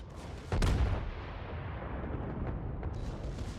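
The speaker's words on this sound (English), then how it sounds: "this cruiser is probably firing" A cruiser fires its guns in World of Warships: one heavy, close boom hits, then a long rumbling roar trails off, with a fainter distant thud a few seconds later.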